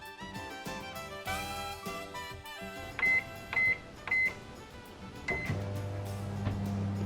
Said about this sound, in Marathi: तर मी हा आता मायक्रोवेव्ह मध्ये हाय पॉवरवर 2 मिनिटं भाजते।